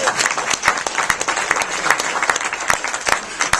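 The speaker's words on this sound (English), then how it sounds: "Give her a round of applause." An audience at a Martin Luther King observance applauds a sergeant, many hands clapping in a dense, lively burst with sharp individual claps standing out near and loud.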